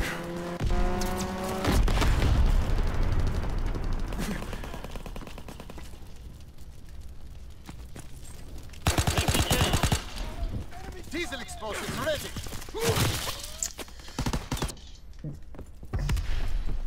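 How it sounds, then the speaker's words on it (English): Enemy aircraft strafing run in Call of Duty WWII multiplayer: bursts of rapid machine-gun fire and booming impacts over rumbling battle noise, loud and close, with a player shouting in between. "Enemy strafing run incoming."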